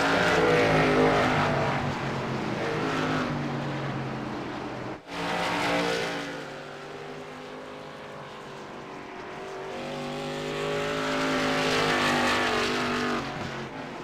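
Race cars on the oval at Lucas Oil Raceway roar steadily and loudly throughout, engines holding a sustained drone with a brief dip near the middle as cars pass.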